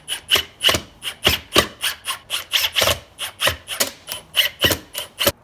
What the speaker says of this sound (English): we got to break off these inside tabs